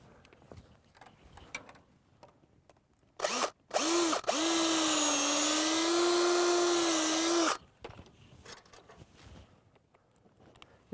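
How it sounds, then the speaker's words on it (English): Cordless power drill backing a screw out of the bottom hinge of a wooden enclosure door, two short bursts and then a sustained whirring run of a few seconds, with soft handling clatter before and after. "And then I'll screw off the bottom hinge."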